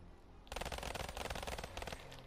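Rapid automatic gunfire in Call of Duty Black Ops 3 during a 1v1 match, a loud close burst of quick shots that starts abruptly and rattles on for nearly two seconds before easing off.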